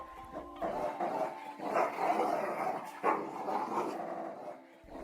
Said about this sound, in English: The dogs, who were tied up by rope, snarled at him viciously.